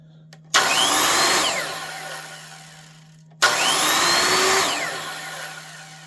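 A 1980s Makita 5077B hypoid circular saw spins up twice with a sharp start, runs at a high whine, then winds down quickly under its electric brake, loud and close.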